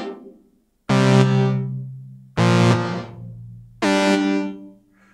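Roland JD-Xi synthesizer playing three sustained, bright chord-like notes in a row, each struck sharply and left to decay through a reverb effect with high-frequency damping that dulls the tail; no talking.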